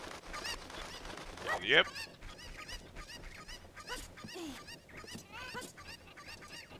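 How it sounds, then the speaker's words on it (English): Cucco chickens in the video game The Legend of Zelda: Ocarina of Time, squawking and clucking in several short bursts, with one sharp loud cry, heard under a player talking. "What is going on with these chickens? These cuckoo birds."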